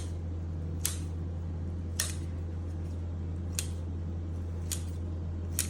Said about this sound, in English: chop this with a pair of scissors